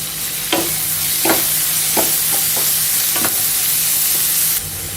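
Chopped onions, green chilies and curry leaves frying in oil for an egg curry, a loud steady close sizzle broken by several stirring scrapes of a spoon against the pan, with no talk.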